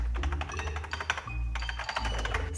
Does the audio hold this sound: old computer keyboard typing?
yes